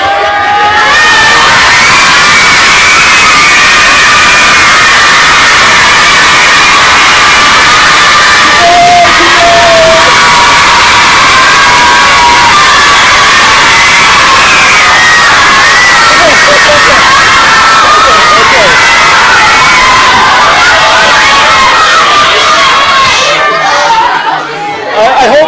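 A crowd of children shout, scream and cheer as loudly as they can indoors, a dense, continuous wall of yelling voices that stays very loud throughout and drops off briefly near the end.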